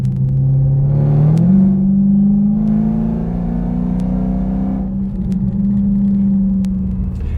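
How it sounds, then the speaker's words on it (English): A 305 hp Subaru WRX STI engine runs close by with a steady, loud droning hum that climbs in pitch about a second in, then holds level with a low rumble beneath. "I am now aboard the Subaru WRX STI, and man, what a different feel to driving this car."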